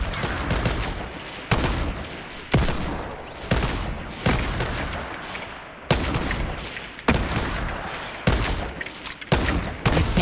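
Repeated gunshots from semi-automatic sniper rifles in the Fortnite video game, loud sharp cracks roughly once a second with echoing decay between shots, steady rhythm throughout.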